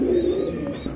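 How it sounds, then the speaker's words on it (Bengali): A pair of top-quality Afsan grizzle pigeons coo steadily and close by, with soft throaty coos rolling over a constant low background hum. "খুব সুন্দর, অবশ্যই একদম টপ কোয়ালিটির এক জোড়া আফসান গ্রিজেল কবুতর"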